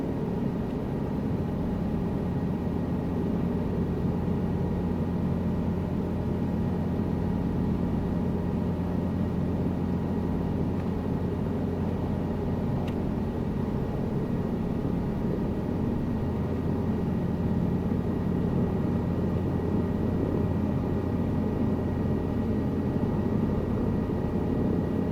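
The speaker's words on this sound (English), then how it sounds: "Using collective, get light on the skids first, and then take off to a 2-foot hover." Helicopter in Microsoft Flight Simulator lifting off its skids to a low hover: a steady, loud, unbroken rotor and turbine drone that holds evenly throughout, with no talk.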